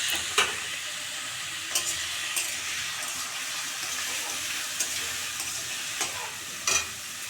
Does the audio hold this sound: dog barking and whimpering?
no